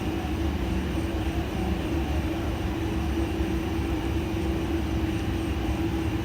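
An A300-600 airliner taxiing over a bumpy surface in a flight simulator, a steady loud engine rumble with continuous low rattling and a constant mid tone, no pauses throughout.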